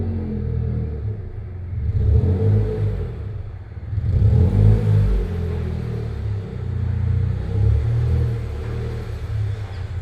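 A lowered car rolls into a shop under engine power, with a low rumbling idle that swells into two brief revs before settling back to a steady mid-pitched drone, close and alone.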